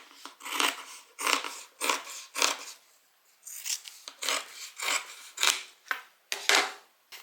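Scissors trimming a fabric seam on a tote bag, about ten rasping cuts in a steady rhythm with short pauses between, close and clear with no talking.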